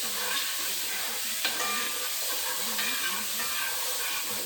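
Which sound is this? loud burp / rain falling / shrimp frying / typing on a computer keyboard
shrimp frying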